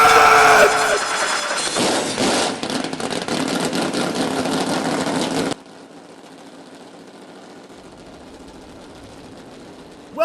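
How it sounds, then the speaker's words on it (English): Modified race car engines at Talladega Superspeedway fire up together in a loud, dense roar that holds for about five seconds, then cuts off abruptly to a quiet background. "Drivers! Start those engines!"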